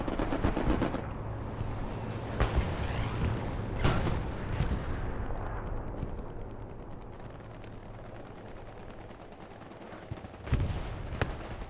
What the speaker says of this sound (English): Strafe run coming in.